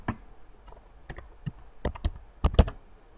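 Keys on a computer keyboard tapped in short irregular bursts, a few isolated clicks then quicker clusters of keystrokes, close and clear with no talking.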